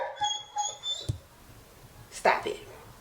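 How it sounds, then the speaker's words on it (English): A pet dog whimpers and yips in a couple of short, high bursts, eager to greet passing stranger dogs in a home entryway, with a person talking around the cries. "Trying to keep my dog from talking to stranger dogs."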